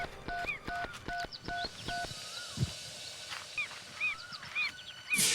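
A phone call rings through as a quick run of short, evenly spaced electronic tone beeps, followed by faint scattered chirps in a quiet room.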